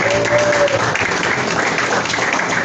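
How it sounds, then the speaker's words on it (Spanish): A church congregation applauds during a Spanish-language worship service, a dense, steady wash of many hands clapping loudly throughout, with a brief held tone early on. "denle palmas al Señor"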